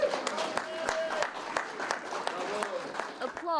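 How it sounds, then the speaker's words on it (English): Crowd applause at a news conference with former congresswoman Gabby Giffords, a continuous patter of clapping from her one-time constituents, moderately distant, with a few voices and shouts mixed in. "Applause melded with muddled messages from the former congresswoman's one-time constituents."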